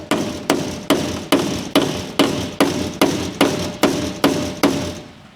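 A small hammer strikes a super rusty part on a 6x6 MTVR truck, landing about eleven evenly spaced, sharp metallic blows up close, each ringing briefly before the next, with no talking.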